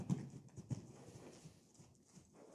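A young, high-energy horse running loose in an indoor arena pounds out a few heavy hoof thuds early on, then softer, scattered footfalls that drift farther away.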